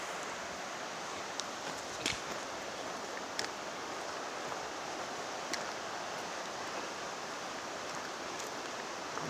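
The Suiattle River flows along a Pacific Crest Trail crossing at dawn, a steady broadband rushing wash with no pauses, fairly loud and continuous, with a few faint clicks on top and no talking.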